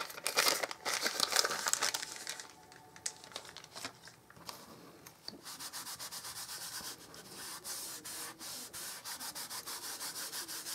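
An Emboss Buddy anti-static pouch rubbed briskly over paper in papercraft die-cutting prep, giving repeated soft rasping swipes in quick rhythm, close and fairly quiet, with no speech.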